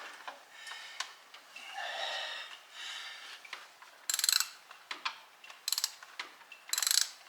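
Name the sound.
socket ratchet turning a bolt on a Mitsubishi Galant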